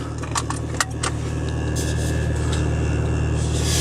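A Mk4 Jetta 2.0 turbo engine idles steadily up close, a constant low droning hum with some rattling vibration, light clicks and a jingle near the start, no talking.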